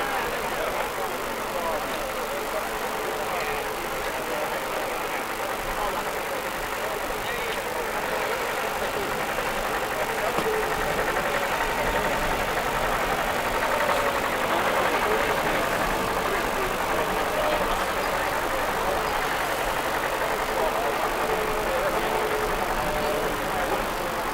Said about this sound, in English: This is a Foden with Gardner power unit, entered in the BRS livery.